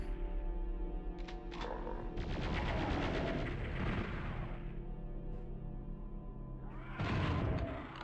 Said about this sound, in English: We are going to make liberal use of the plasma rifle here.